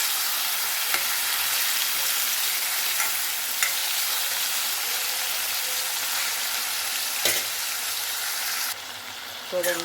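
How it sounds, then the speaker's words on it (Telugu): Vegetables fry in oil in a pan for an eggplant and raw mango curry, a loud, steady, close sizzle with occasional stirring clacks, easing near the end, where a voice speaks briefly. "కొంచెం ఒక టూ మినిట్స్ అట్లా మగ్గాలి ఇది ఆయిల్లో"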